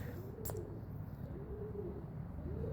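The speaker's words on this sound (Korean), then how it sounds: "비둘기 우는 소리 짜증난다" Pigeons coo in repeated low, rolling phrases outdoors, partly buried in steady background noise, with a brief sharp sound near the start.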